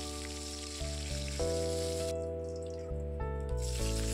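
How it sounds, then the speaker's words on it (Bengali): Dry red chillies, bay leaf and whole cumin sizzle in hot oil left from frying cauliflower for bhog khichuri, a steady close crackle that runs without pause under a low, shifting tonal hum. "ওই তেলেই শুকনো লঙ্কা, তেজপাতা, গোটা জিরে ফোড়ন দিয়ে দিয়েছি"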